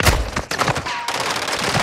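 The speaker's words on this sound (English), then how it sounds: "I'm taking fire." Sustained automatic gunfire in Call of Duty Modern Warfare 2, a loud, dense stream of rapid shots with sharp bursts across the whole stretch, close and alone without talk.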